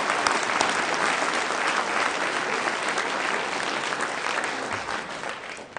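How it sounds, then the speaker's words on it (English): A large awards-ceremony audience gives Jimmy Muller steady, dense applause at the PhillyStat Excellence Awards, with many hands clapping evenly and loudly from start to finish. "Let's all clap for Jimmy."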